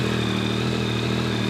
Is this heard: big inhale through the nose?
no